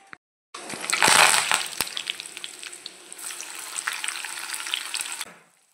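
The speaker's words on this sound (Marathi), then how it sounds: "मी दुपारसाठी व्हेज कोल्हापुरी बनवत आहे" Mixed vegetables with capsicum and peas frying for veg kolhapuri, a steady close sizzle that flares loudly early on, then settles into continuous crackling with scattered pops and a few stirring clatters.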